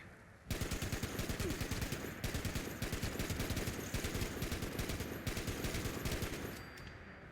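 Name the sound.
50 caliber machine gun firing in Fallout 76 video game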